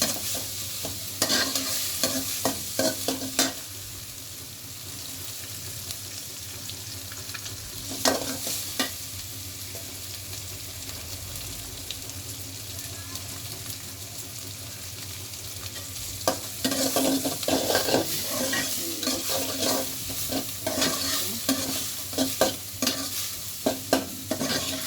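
Food frying and being stirred in a pan before pasta goes in: a continuous loud sizzle broken by repeated scraping stirs in bursts, close and alone without any voices.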